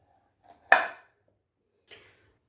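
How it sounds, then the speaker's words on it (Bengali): Long carrots being cut into small pieces on a board, heard as one sharp knife chop followed by a fainter second cut in otherwise quiet surroundings. "ছোট ছোট পিস করে গ্রেট করতে আমাদের সুবিধা হবে"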